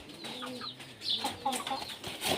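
Pet pigeons coo and flutter softly close by during feeding with paddy, maize and wheat, with short chattering calls scattered over a couple of seconds.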